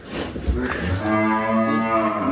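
A giant cow being unloaded from a truck gives one long, loud, close moo that rises and holds for about two seconds.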